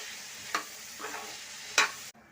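Ivy gourd curry seasoned with salt and turmeric is stirred in a pan: a soft continuous sizzle broken by three brief scraping strokes before the sound cuts off abruptly.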